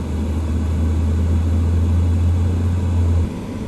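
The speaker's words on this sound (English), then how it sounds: "you want to run it up just above the 2000 mark RPM" A car engine held at a steady raise to just above 2000 RPM during an air-conditioning performance test, a constant loud hum with a low drone that drops off near the end.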